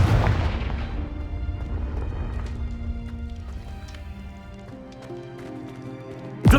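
A Confringo spell blast in Hogwarts Legacy erupts with a loud booming burst that fades into a long rumbling decay with scattered debris crackles, and a second sharp hit lands at the very end.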